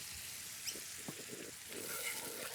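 Prawns in XO sauce with light soy sauce and caster sugar simmer in a pan, giving a steady soft sizzle with faint bubbling pops, close and continuous.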